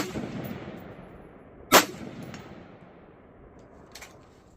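A single loud rifle shot cracks at an outdoor range while shooting at a fallen steel gong target, followed by a faint distant echo and a small second impact later.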